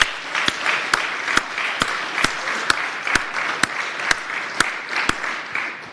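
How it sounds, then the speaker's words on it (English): A round of applause fills the Senate of Virginia chamber, many hands clapping steadily with several sharp, distinct claps standing out near the microphone throughout. "Let's offer them a round of applause."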